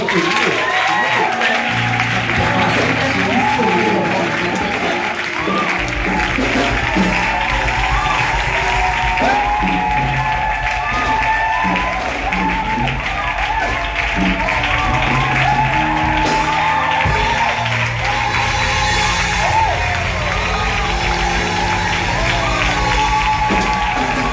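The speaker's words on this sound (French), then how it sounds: "Je veux un tonnerre d'acclamation dans la salle." A congregation at a special church service in Benin fills the hall with a thunderous ovation, continuous loud clapping mixed with shouts, whoops and cheering, accompanied by sustained tones and lasting throughout.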